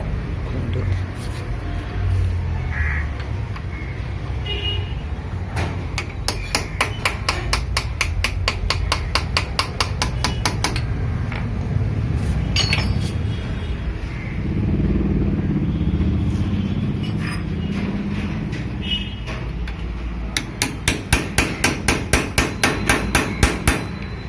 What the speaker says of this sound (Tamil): இந்த லாக் நட்டை தட்டி லூஸ் பண்ண போகிறோம்.